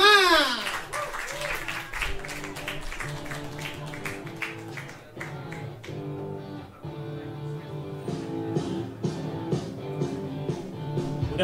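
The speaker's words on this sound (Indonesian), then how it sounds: "Langsung saja beri tepuk tangan dulu untuk Faiko Rahman." An audience at a comedy show applauds performer Faiko Rahman, a continuous patter of clapping running under loud music with steady beats.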